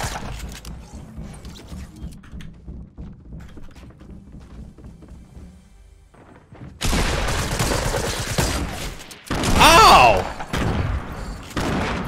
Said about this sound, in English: Let's see if my pump shotgun works.